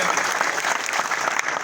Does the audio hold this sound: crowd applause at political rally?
yes